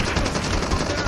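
A continuous rapid burst of automatic gunfire in Call of Duty Mobile, close and loud, with fast even shots filling the whole moment without pause.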